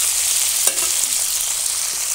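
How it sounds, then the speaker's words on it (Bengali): Potatoes fry in hot oil with roasted cumin and coriander and a sprinkle of poppy seeds, giving a loud, steady sizzle broken by the occasional scrape of stirring. "ভাজা মশলা, জিরে, ধনে, আলুগুলো ভালো করে ভেজে নেব।"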